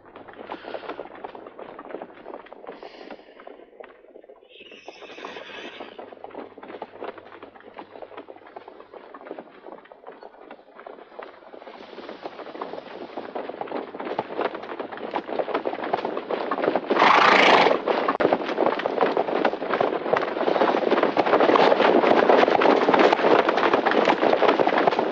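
Horses arrive with clip-clopping hooves that grow louder and denser as they approach, a brief neigh rising near the middle before the hoofbeats settle into a steady close rumble.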